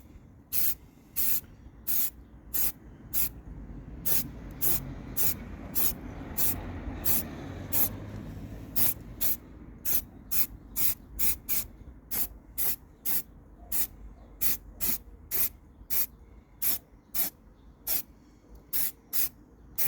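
Spray can laying a light first primer coat onto wheels, sounding as a steady run of short, sharp hissing bursts, near and fairly loud, with a soft background rumble and no talking.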